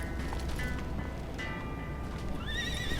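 A horse whinnies with a rising and falling neigh in the Western video game Call of Juarez: Gunslinger, heard over a steady rumbling game background with hoof clip-clops and other whinny calls scattered through.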